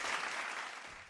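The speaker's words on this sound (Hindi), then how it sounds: "एक बार इनके स्टाइल के लिए ताली होनी चाहिए।" An audience claps for a child dancer on a dance show stage, a dense wash of applause that holds steady and then fades slightly toward the end.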